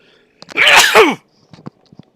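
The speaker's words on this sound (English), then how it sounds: "I'm going to sneeze" A single loud, close sneeze with a sharp breathy burst, followed by a few faint clicks and small noises in a quiet room.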